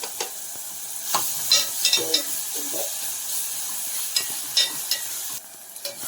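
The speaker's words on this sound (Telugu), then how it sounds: "3 మిర్చి వేసి కాస్త ఫ్రై చేసుకుని ఇందులోనే ఇప్పుడు అల్లం వెల్లుల్లి పేస్ట్ వేస్తున్నా" Ginger garlic paste and green chillies frying in a pan for an egg tomato curry, a steady close sizzle broken by several scraping stirs of a spoon against the metal.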